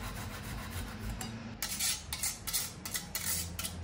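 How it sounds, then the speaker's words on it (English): Fresh ginger is grated for teriyaki sauce. After a quieter opening, close rhythmic rasping strokes repeat in quick, uneven bursts, with no talking. "Grated ginger."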